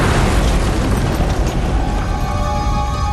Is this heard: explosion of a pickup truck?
yes